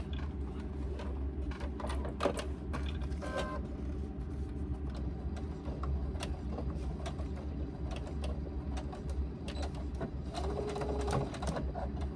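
A sewing machine stitches back across the bottom seam of a fabric laptop bag, a steady mechanical whir with light rhythmic clatter running continuously and close, with no talking.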